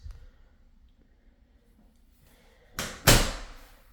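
An interior door in a house swings shut, two quick loud thumps close by near the end after several seconds of near-quiet room tone.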